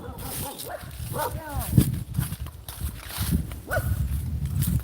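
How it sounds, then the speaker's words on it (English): Dogs barking at a rural hillside home, a few sharp barks at mid distance mixed with people talking and footsteps nearby. "There's more dogs over here. Look at those dogs."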